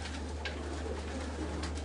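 Racing pigeons coo softly in a loft, low repeated coos over a steady hum, with no one talking.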